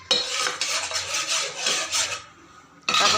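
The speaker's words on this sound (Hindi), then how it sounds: "अच्छे से भून गया ये घी में बेसन।" Gram flour stirred and scraped as it roasts in ghee in a pan, a steady close rasping and scraping with short pauses, a brief quieter gap near the end before the stirring resumes.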